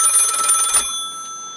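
A telephone bell rings in rapid repeated bursts for about 0.8 seconds, loud and close, then stops abruptly, leaving a faint residual hum.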